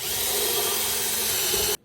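A power drill drives a hole saw through wood while making a bluebird house, a loud close grinding whir that holds steady and then stops abruptly.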